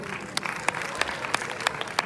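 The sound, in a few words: audience applause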